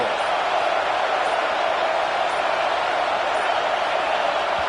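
Football stadium crowd roaring in a loud, steady wash of noise that holds at a constant level from start to finish, with no single voices standing out.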